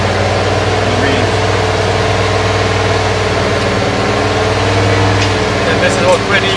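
V8 engine idling during an emissions test, a loud, steady low rumble with a constant hum throughout and faint voices in the background.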